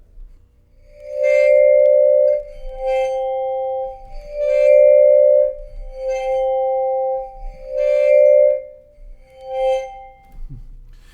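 Bowed vibraphone sounding a second and a fifth, six long sustained glassy tones with the bar stopped between each bow, close and alone with quiet gaps.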